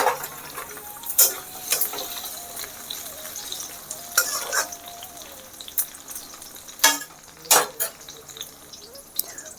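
Tomatoes and onions sizzle in hot oil in a pan, broken by sharp clanks and scrapes of a spoon stirring against metal.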